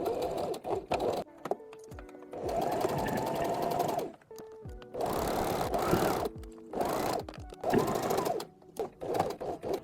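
A domestic sewing machine stitches T-shirt fabric in several loud bursts of steady motor whirring, broken by short pauses and faint mechanical clicks as the presser foot is lifted and the work is turned.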